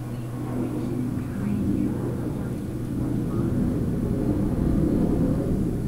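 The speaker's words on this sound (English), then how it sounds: "Please disregard the jet noise." Jets fly near a naval air station, producing a continuous low, broad roar that holds steady and rises slightly toward the end, moderately loud and sustained in the background.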